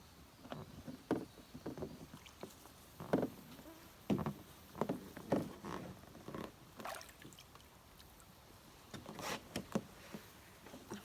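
Paddling a solo H2O Pack 12 pack boat canoe on Cat Lake in Haliburton, with soft, irregular paddle strokes and water splashes near the boat against light outdoor ambience.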